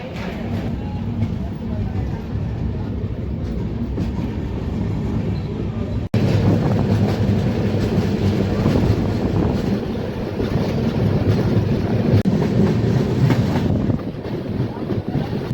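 A passenger train pulls out of Akola Junction on the Nanded–Shegaon route, giving a steady, loud rumble of wheels on rails with a brief jolt midway and wind noise throughout.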